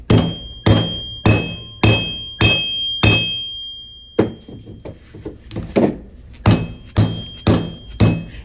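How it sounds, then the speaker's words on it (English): A rubber mallet strikes a twisted copper bracelet in about fifteen sharp, evenly spaced thuds with ringing metallic overtones, close and loud, with a brief pause midway and no talk. "I'm going to come from the other side with my rubber mallet, and I'm going to meet it the other way"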